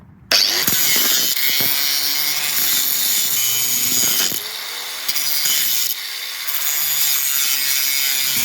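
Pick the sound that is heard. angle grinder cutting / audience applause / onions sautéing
angle grinder cutting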